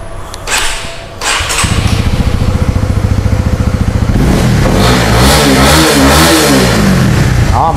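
A Honda CB150R 2023 motorcycle engine starts close up, settles into a fast, even idle, then is revved in rising and falling surges, loud and near, with no talk.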